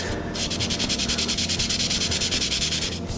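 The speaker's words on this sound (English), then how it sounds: "So I'm gonna take just a little piece of sandpaper." A carbon fiber ski pole tube is rubbed with a small piece of sandpaper in quick, even back-and-forth strokes, close and continuous for about three seconds.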